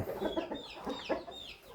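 Young Burmese roosters on a farm give a run of soft, repeated clucks with a few higher squawking calls, fairly close and without talk.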